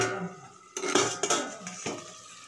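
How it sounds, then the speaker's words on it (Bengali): A metal lid clanks onto a pot of cooking chicken, with a few sharp knocks and rattles after a quiet start, close by. "এরপরে আমি ঢাকনা দিয়ে রেখে দেবো।"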